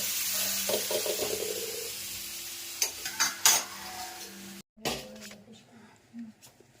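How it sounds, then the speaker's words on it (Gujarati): Spices tempering in hot oil for a moong bean curry, a steady sizzle with stirring and utensil clinks against the pot, a few sharp scrapes midway, then a brief pause and quieter crackling. "સરસ મજાનો વઘાર થઈ ગયો છે"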